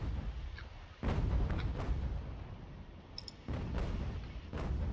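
Cannon artillery booming in Ultimate General: American Revolution, a battle between British and American forces: several heavy, widely spaced blasts with rumbling tails, one rapid cluster of reports in the middle, over continuous low battlefield rumble.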